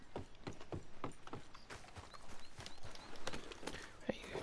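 Horse hooves clip-clop in a steady, moderately close rhythm in Red Dead Redemption 2, with scattered clicks and faint mechanical rattles alongside.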